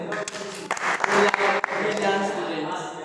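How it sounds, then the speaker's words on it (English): Students clapping together in a classroom during a maths tutorial, a burst of applause mixed with voices and room noise, fairly close and steady for a few seconds. "Clap for yourself"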